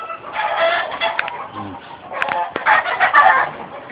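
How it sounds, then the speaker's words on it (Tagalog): A flock of hens clucking and squawking close by near their nests, busy overlapping calls rising and falling in short bursts. "Ayan lahat ng manok."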